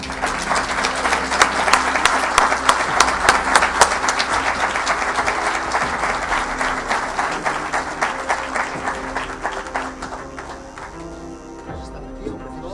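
An audience gives a loud, sustained round of applause for Spanish speaker Salvador Freixedo at a talk, with distinct claps at first that thin out and fade toward the end.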